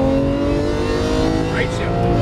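A Lamborghini Aventador LP700-4 roars loud and close as it accelerates on a track, its engine note strong and continuous for a couple of seconds.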